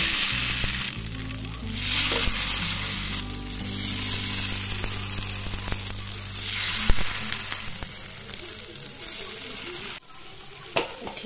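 Food frying in oil for an Odia pakhala thali, a steady broadband sizzle running throughout with occasional stirring clatter and low rumble, close and moderately loud, cutting off briefly near the end.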